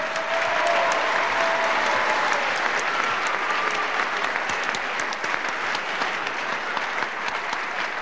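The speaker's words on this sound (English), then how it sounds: "how about a big round of applause for two fine professional wrestlers" A wrestling crowd gives sustained, even applause for two professional wrestlers, a dense wash of clapping hands that stays loud and steady for the full eight seconds with no break.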